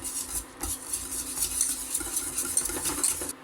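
Melted butter stirred in a pan with a utensil, soft repeated scraping and light clinks against the metal in an irregular rhythm, close and fairly quiet with no voices.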